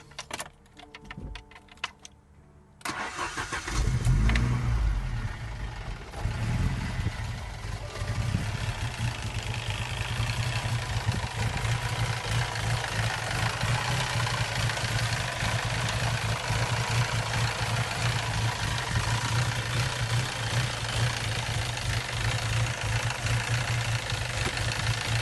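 A rebuilt car engine is cranked after a few keys jangle, catches with a surge, then settles into a steady, loud idle with a low, even rumble that runs for about twenty seconds.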